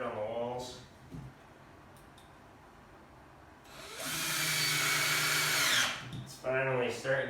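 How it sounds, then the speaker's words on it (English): A power drill driving screws into the floor of a trapper's cabin, a loud high whine lasting a couple of seconds amid shuffling work noise and brief talk before and after. "We'll finish screwing this down."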